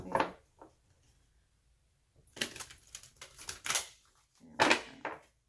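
Cards being shuffled in a few quick, crisp bursts of riffling and snapping, separated by short pauses, close by.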